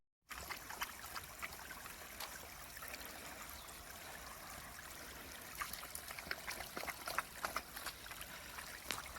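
Creek water on the Appalachian Trail trickles and gurgles in a steady, faint, close-up stream, with small splashy bursts scattered throughout and no voices.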